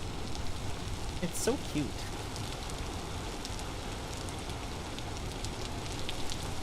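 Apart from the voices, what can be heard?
rain falling through open roof in video game Vintage Story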